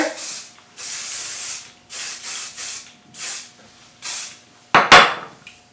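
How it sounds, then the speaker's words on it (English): Several short hissing bursts of Kenra volume hair spray, spaced irregularly, followed by a couple of brief clattering knocks near the end. "take a little bit of the Kenra volume spray, give it a spray all over"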